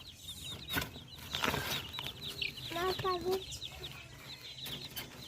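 Domestic chickens clucking near a coop, short close clucks and a few squawks with some wing movement, fairly quiet, while a person talks intermittently.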